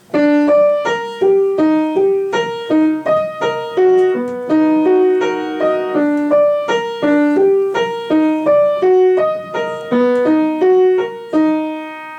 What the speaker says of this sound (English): your right hand high piano part during the chorus should sound something like this